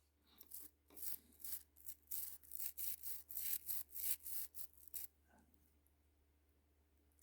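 Scrubbing residue from the gears of an Atlas N scale RS 11 model locomotive, about a dozen rhythmic brushing strokes close up, then quiet.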